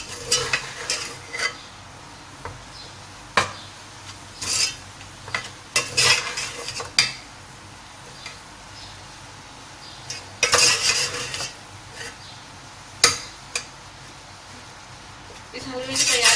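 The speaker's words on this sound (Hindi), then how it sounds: "अब इसे भी अच्छे से इसके साथ मिक्स कर लेना है हमें।" A spoon scrapes and clatters against a pan while chana dal halwa is stirred and mixed, in irregular bursts of scraping with a faint sizzle underneath, close and moderately loud.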